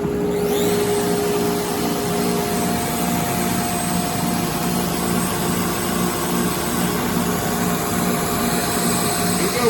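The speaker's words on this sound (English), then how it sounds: "I'm gonna turn my router on, and then I'm gonna tell it to cut this thing out." A loud, steady machine whine with a constant high tone and grinding hiss as a CNC router cuts wood, running continuously without a break.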